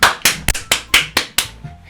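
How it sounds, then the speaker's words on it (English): Sharp, evenly spaced claps from a single pair of hands, about eight in under two seconds, close and loud with a quick fade after each, as applause in the Doki Doki Literature Club video game. "I'm the first to start applauding."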